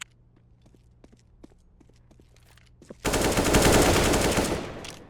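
Video game gunfire sprayed while the player runs: light footsteps and small clicks for a few seconds, then a sudden loud continuous burst of automatic fire that holds for about two seconds.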